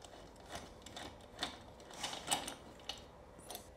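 A T-handle wrench spins out the swingarm chain adjusters on a 2024 KTM 300 EXC TBI dirt bike, giving a string of light metallic ticks and ratcheting clicks with uneven spacing, close by and fairly quiet.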